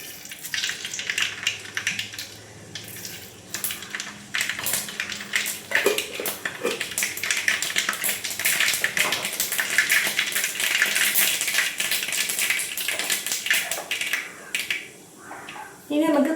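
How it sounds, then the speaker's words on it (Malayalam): Mustard seeds splutter in hot oil while pickling love lolikka, making rapid, scattered crackles and pops that keep up steadily throughout, with a person talking over them. "എണ്ണ ചൂടായിട്ടിട്ട് നമുക്ക് കുറച്ച് കടുകിടാം"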